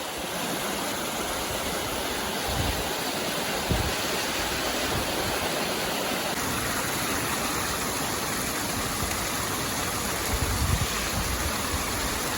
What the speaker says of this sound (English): The trail is the waterfall.